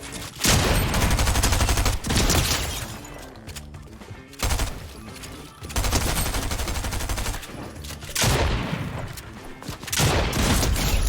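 Repeated bursts of gunfire in Fortnite arena play, loud and rapid with short pauses between volleys, sounding like sustained automatic fire.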